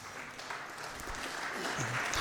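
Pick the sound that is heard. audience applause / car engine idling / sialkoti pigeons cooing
audience applause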